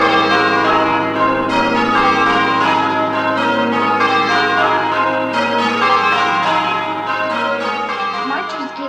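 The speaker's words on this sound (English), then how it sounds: "Here comes the bell tower ringing for Joan" Church tower bells ring in a dense, continuous peal for a parade celebrating Joan of Arc, loud and sustained throughout without a break.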